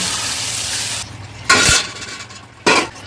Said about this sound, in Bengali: মশলাটা ভালো করে কষানো হয়ে গেছে, জল দেবো